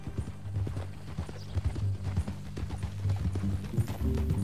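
Horse hooves clip-clop steadily at close range in the Red Dead Redemption 2 video game, an even rhythmic trot carried over a low rumbling background, with a brief whinny-like sound and faint voices.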